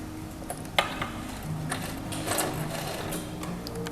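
A sewing machine stitches fabric and gathers the lower layer, running as a steady, close mechanical whir with light clicks throughout.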